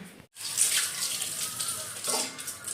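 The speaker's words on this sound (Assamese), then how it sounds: "মই ধুই আছোঁ এয়া বাচন" Tap water runs steadily into a sink while dishes are washed, a continuous hiss of flowing water with faint clinks, close by and free of speech.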